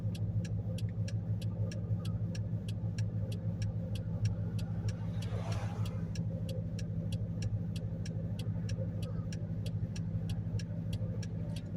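A C5 Corvette with a six-speed manual drives along, its engine a steady low hum heard from inside the cabin, accompanied by a regular ticking, quiet and even throughout with no talk.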